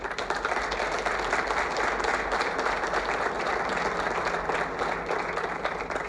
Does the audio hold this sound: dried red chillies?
no